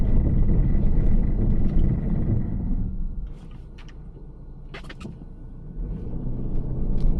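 A car brakes hard at about 25 mph on snow on Bridgestone Blizzak tires with traction control off. A loud rumbling roar drops away after a few seconds into a quieter low drone with scattered crunches and knocks, then builds again.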